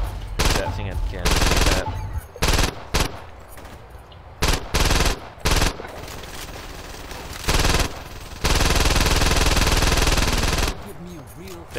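Rapid machine-gun fire in Saints Row 2 during a co-op boss fight, loud bursts repeatedly starting and stopping, with short gaps and a sustained stretch of shooting near the end.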